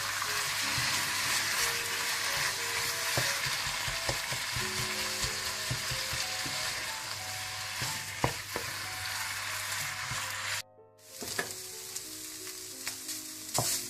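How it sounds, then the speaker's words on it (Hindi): Chicken cooking in a pan with salt and soy sauce for a spring roll filling gives a loud, dense, continuous sizzle. The sizzle cuts out briefly near the end, then resumes with light stirring clatter and no voices. "चिकन डालने के बाद आप थोड़ा सा नमक और 2 टेबलस्पून सोया सॉस डाल दें और इसको अच्छी तरह से आप पका लें।"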